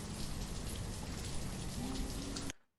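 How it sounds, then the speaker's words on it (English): Steady rain ambience from the city-building game Banished, a dense even hiss of falling rain that runs unbroken and then cuts off abruptly near the end. "See if that turns the rain down."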